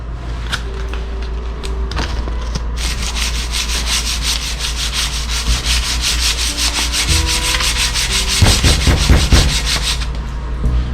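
Steady, loud back-and-forth sanding on a surface being prepared for paint, rasping strokes in a regular rhythm, close up and continuous with no voices.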